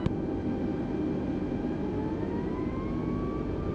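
Airbus A320neo jet engines spooling up for takeoff in Microsoft Flight Simulator 2020, a steady loud roar with a rising whine that climbs through the clip, continuous and close.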